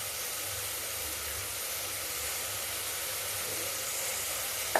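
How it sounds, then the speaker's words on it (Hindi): White brinjal (eggplant) pieces sizzle steadily in a pan on a home stove, a soft continuous hiss of frying with a faint low hum underneath. "मैं इसको इसमें डाल देती हूँ और ये सब्जी को थोड़ा भून लेती हूँ"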